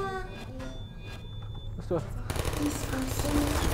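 Rapid automatic turret fire in Portal, a dense burst of gunfire that rises near the end and keeps chattering steadily, following quieter game sounds with faint background tones.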